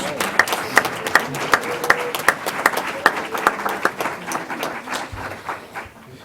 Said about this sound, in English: Y'all get to clap again